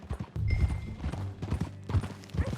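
Horse hooves clip-clop at a steady pace in Red Dead Redemption 2, moderately close, with a faint tonal background behind the rhythmic steps.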